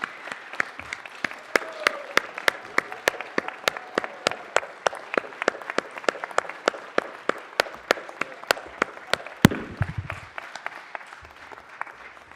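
Sparse, scattered hand claps in a city council chamber, a modest gallery crowd clapping at an uneven rhythm, crisp individual claps spread across the room, with a brief low thump near the end.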